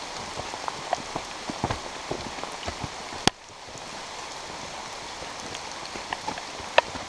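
Heavy rain falls steadily on a mountain trail, a dense hiss with scattered drops and occasional sharp taps close by, continuing without a break.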